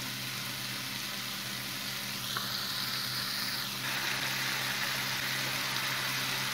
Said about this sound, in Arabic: راه البصلة خليتها تطبخ مزيان، صافي. ونزيدو الكفتة ديالنا